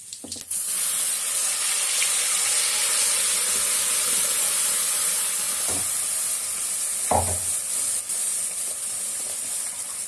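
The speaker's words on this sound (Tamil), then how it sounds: "கொஞ்சமாக தண்ணி ஊற்றி அலசி கழுவி ஊற்றிக்கலாம்." A steady rush of running water from a tap splashes loudly for several seconds, with a couple of brief clunks as a blender jar is rinsed underneath.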